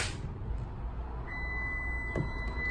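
A steady electronic door-ajar warning tone in a 2017 Toyota Land Cruiser Prado GXL starts partway through and holds, sounding over low idling engine hum.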